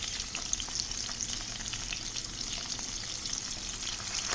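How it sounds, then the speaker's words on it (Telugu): Dry salt fish fries in a pan with a dense, steady hiss of hot oil, close by, and occasional faint stirring touches and no voices. "కొంచెం టైం తీసుకుంటుందండి ఫిష్ వేగాలి అనేది"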